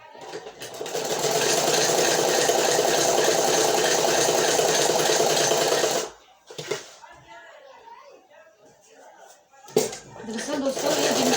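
An electric sewing machine stitches a half collar on a kurti, running in a loud, steady whirring drone for about six seconds, then stopping. Cloth is handled and the machine gives a brief burst and restarts, while someone talks.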